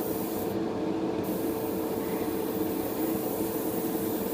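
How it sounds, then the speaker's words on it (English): An airbrush spraying Pledge Floor Care finish onto a Bandai 1/60 Strike Gundam model part makes a steady, close hiss of air and spray, continuous and alone without talk. "Trying to keep the airbrush parallel to the piece I'm spraying, just so it's all even coaty."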